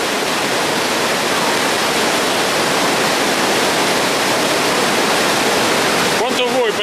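Roaring water at Iguaçu Falls, a steady, loud broadband rush that holds without a break, with a faint voice near the end.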